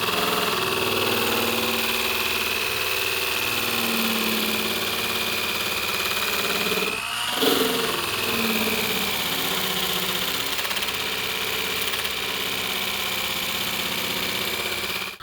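An abrasive wheel grinds rust from the stainless steel body of an abandoned DeLorean, a steady loud mechanical whine running throughout with a steady high tone and a brief dip midway.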